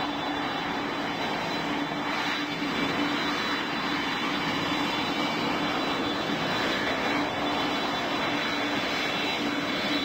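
Jet engines on Air Force One, callsign Raider-2803, run at a steady whine and roar during pushback, loud and unbroken throughout, with a constant high tonal hum.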